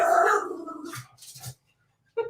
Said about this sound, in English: Now he's going to get loud and play and growl at his toys